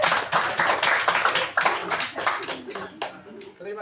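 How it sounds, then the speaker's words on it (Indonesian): A classroom of students applauds a group presentation: scattered clapping from many hands, fairly close and uneven, fading toward the end, with some voices mixed in. "Tepuk tangan untuk kelompok 4 dulu."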